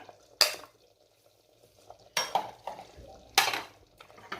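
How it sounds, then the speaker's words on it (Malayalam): Milk payasam of beaten rice is stirred in a pot with a spoon, three quick scraping, clattering bursts separated by quiet gaps, close and moderately loud, with no talk. "അപ്പോൾ അതൊക്കെ ഒന്ന് ഇളക്കിയിട്ട് ചേർത്ത് കൊടുക്കാം."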